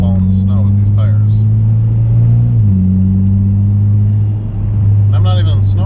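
Steady low engine drone of a 2015 Mitsubishi Lancer Evolution MR with an AEM cold air intake driving on a snowy road, with a faint shift in pitch midway and soft crunching road noise underneath, brief voices at the edges.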